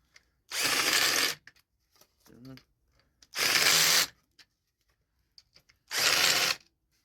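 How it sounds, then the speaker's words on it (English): Three loud bursts of a power drill whirring as it tightens screws on a steel drum stand, each lasting about a second, separated by quiet pauses with small clicks and handling noises. "take your drill."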